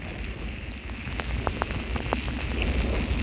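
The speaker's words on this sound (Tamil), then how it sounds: "மழை மிக மிக வேகமாக விழ ஆரம்பித்து விட்டது" Heavy rain and wind at sea pelt a fishing boat in a dense, steady hiss, with scattered sharp drops tapping close by on the deck, no voices.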